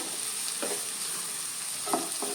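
Finely chopped onions frying in a pan for Konkani egg masala, a steady close sizzle with a few soft stirring scrapes and no voices.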